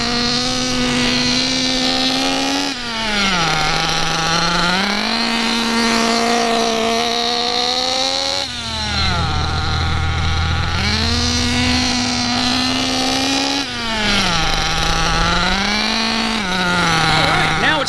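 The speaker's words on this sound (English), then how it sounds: "While doing figure eights, you want to keep the buggy moving without going over half throttle." A nitro RC buggy engine buzzes loudly and continuously while running figure eights, its pitch climbing and dropping in a repeating cycle every few seconds as the car turns and speeds up.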